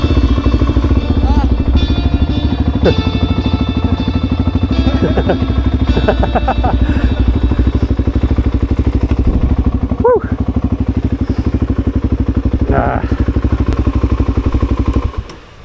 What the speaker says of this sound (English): I can hear the thermo fan going.